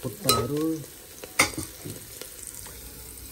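Black pork trotters and onions fry in a pan, giving a close sizzle punctuated by a couple of sharp stirring scrapes against the metal, then settling into a quieter crackle.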